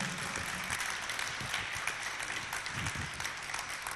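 An audience claps together at a devotional discourse gathering marking a 50th anniversary, a steady, dense wash of applause that holds at an even level for the whole stretch with no voices over it.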